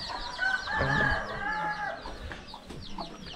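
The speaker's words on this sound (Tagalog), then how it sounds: "Ay no, kawawa naman yung mga manok, hindi pa nakakain." Hens cluck and chatter in a busy overlapping flurry, close by, with brief louder squawks rising above the steady clucking.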